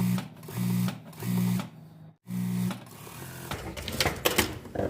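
A sewing machine puts a 0.5 stitch along the overlocked back panel of a gathered skirt, running in short repeated bursts with a brief stop, then continuing amid clicks and fabric handling.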